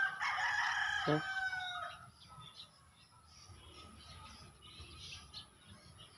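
Close by, a rooster gives a loud crow in the first two seconds, then hens cluck softly and sporadically. A voice briefly speaks over them.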